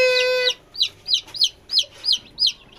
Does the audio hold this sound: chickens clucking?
yes